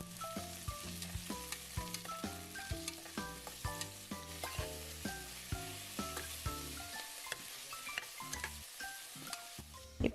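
Sliced onions sauté with curry leaves in a pan for a Kerala green peas curry, a close, steady sizzle punctuated by regular spatula clacks and scrapes at a brisk rhythm.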